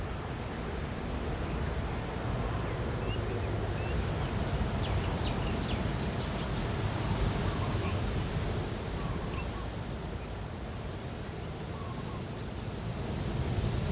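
Steady roaring ocean surf and wind noise wash through the whole stretch, broad and unbroken, like waves rolling in nearby.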